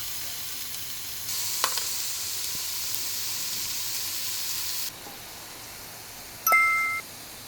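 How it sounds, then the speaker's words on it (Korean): Pork belly sizzling on a hot grill plate, a steady soft crackling hiss that runs for several seconds and then drops away, followed by a brief higher-pitched electronic tone, with no talk. "자, 불판이 달궈졌으니 이제 고기를 올려볼게요."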